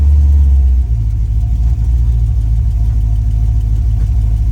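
A Ford Falcon hot rod's engine idles steadily with a deep, low rumble, heard from outside at close range, with a slight shift in tone about a second in.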